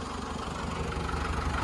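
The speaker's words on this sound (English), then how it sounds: "Four-wheel drive is nice on a smaller tractor like this." Small four-wheel-drive tractor engine running steadily while climbing a hill during brush cutting, a loud continuous close drone with a low rumble.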